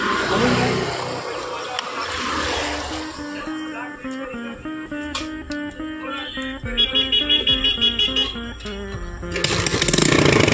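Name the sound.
motorcycle engine starting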